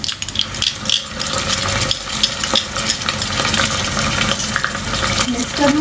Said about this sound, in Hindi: अब जिंजर और गार्लिक का पेस्ट डाल के अच्छे से